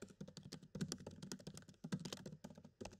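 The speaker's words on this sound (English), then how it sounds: "So I have typed in my text block." Keys clatter on a computer keyboard in a quick, uneven burst of close, crisp taps with short pauses, heard alone without speech.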